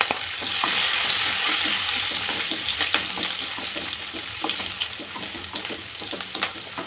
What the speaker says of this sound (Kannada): ಈಗ ಮೆಣಸಿನ್ಕಾಯಿ ಹಾಕ್ತಿದ್ದೀನಿ